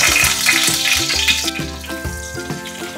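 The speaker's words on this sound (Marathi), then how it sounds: "कढीपत्ता तेलामध्ये टाकते." Curry leaves dropped into hot oil give a loud, close, crackling sizzle, with a few sharp pan knocks and scrapes over about three seconds and no talk.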